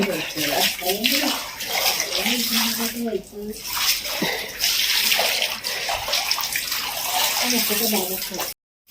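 Water splashes and pours in repeated gushes during a soapy wash, loud and close, while voices talk over the sound of the water.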